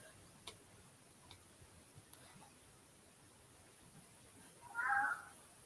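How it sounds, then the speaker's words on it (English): A house cat meows once near the end, a short clear cry after several seconds of quiet room tone with faint ticking. "Rudy, why are you meowing?"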